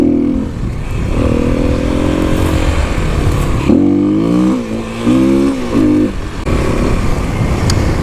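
Kawasaki KLX300, Yamaha WR250R and Suzuki DRZ400 dual sport motorcycles riding on a road, loud continuous engine drone with rising and falling revs as the bikes shift through gears, no talking.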